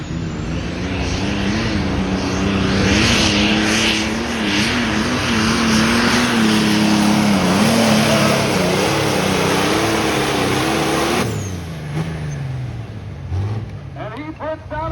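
A light limited super stock pulling tractor roars loudly through a full pass with its front wheels lifted, a strained engine howl rising and wavering before dropping away as a crowd cheers and an announcer speaks over it.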